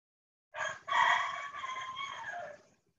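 A cockerel gives one full cock-a-doodle-doo crow lasting about two seconds, clear and fairly close, alone against a quiet background.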